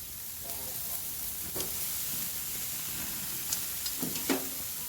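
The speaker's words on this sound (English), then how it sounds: "my grill is super hot. It's perfect. Gonna put the steaks on." Steaks searing on a very hot outdoor grill, giving a steady broadband sizzle with a few brief louder pops and crackles, nearby and alone.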